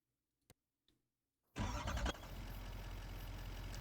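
A pickup truck in Farming Simulator 25 starts up after a couple of faint clicks: the engine catches with a loud burst, then settles into a steady, close idle rumble.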